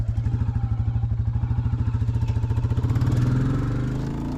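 A Royal Enfield Classic 350 motorcycle thumps past on full song, its single-cylinder engine firing in a steady, even pulse that swells louder and rises slightly in pitch toward the end, with no talking.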